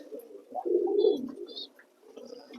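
Pigeons cooing softly up close in a loft, a few low throaty coos in a row with faint chirps above, no talking.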